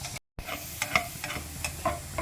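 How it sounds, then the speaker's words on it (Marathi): Finely chopped onions sizzle and fry in a pan for egg pulao, a soft steady crackle broken by the scrape of a spoon stirring, heard close and alone after a brief dropout of silence. "हो पियाव तिके बरो करून भाजया."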